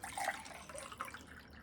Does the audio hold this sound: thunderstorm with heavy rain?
no